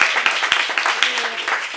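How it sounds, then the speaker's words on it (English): Audience applause at a live comedy-style talk show, scattered sharp claps under a steady crowd wash, moderately loud and close, with voices mixed in. "So give yourself a round of applause."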